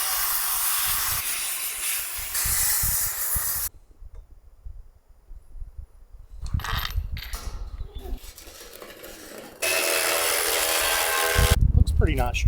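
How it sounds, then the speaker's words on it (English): Power tool cutting angle irons bracing the top of a 30-year-old woodstove, loud harsh grinding bursts broken by a quiet pause and rattling handling noises, with a person talking in between. "I just gotta cut these angle irons that are inside that are bracing the top of it."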